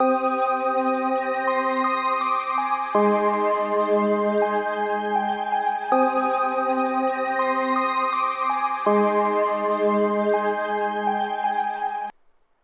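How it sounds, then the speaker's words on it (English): Smooth, sustained synth pad chords change every few seconds in a slow repeating progression, played alone and ending with a soft fade. "I just replace the sound with a pad and it sounds like this"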